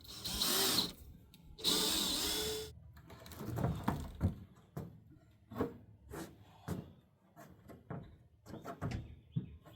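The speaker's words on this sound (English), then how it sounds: "I got to go and screw them all in, and this part will be done." A power drill drives screws into wooden boards for an axe-throwing target, with two long whirring runs followed by a string of short, sharp bursts and clunks, close up and fairly quiet.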